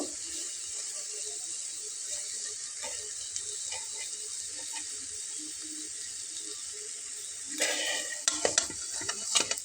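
Homemade Bengali evening snacks frying in hot oil, a steady soft sizzle running underneath, then a burst of scraping and clinking near the end as pieces are pushed aside and lifted out to drain.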